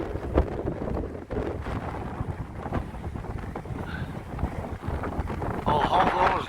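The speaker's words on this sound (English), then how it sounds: "Wind's getting up, tide's all the way in." Strong wind gusting on Gorleston Pier by the sea, buffeting the microphone with heavy rumbling blasts and rushing noise, with a person speaking intermittently over it.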